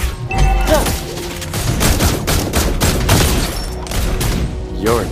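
Granger's gunfire in the Mobile Legends: Bang Bang video game: a loud, dense string of rapid shots and impacts runs through the whole stretch, with brief bursts standing out near the start and end.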